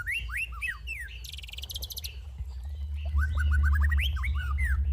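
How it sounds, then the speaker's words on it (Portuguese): Several birds singing at Lagoa da Pampulha, a city lagoon: clear repeated chirps and whistled phrases with a brief buzzy trill, fairly close, over a low urban rumble that swells toward the end, no talking. "Que a gente aprenda a ouvir mais o canto das aves."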